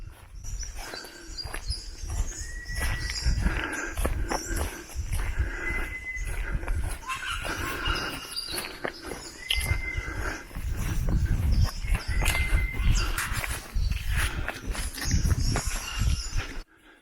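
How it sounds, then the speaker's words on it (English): Bird calls ring out through an outdoor setting, brief whistled phrases repeating among rustling and low background noise. "Just listening to the birds."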